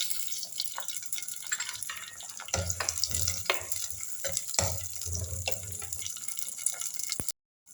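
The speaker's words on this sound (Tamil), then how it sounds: "இப்போ வெங்காயம் வதக்கும் போது கொஞ்சம் உப்பு போட்டுக்கலாம்" Small shallots hiss and sizzle as they fry in hot oil in a clay mud pot, a steady crackling hiss with occasional stirring scrapes, close and fairly loud.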